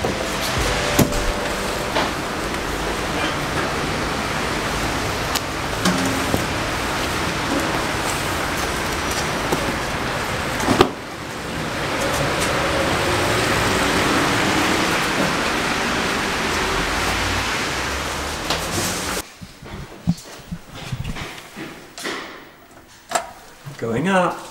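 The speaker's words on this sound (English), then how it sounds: "It's the perfect day for delivery, and as I said, it's really rainy." Steady hiss of rain falling outdoors on a rainy day in Copenhagen, a dense wash of drops lasting most of the stretch with a few knocks and bumps, fading into quieter handling noises near the end.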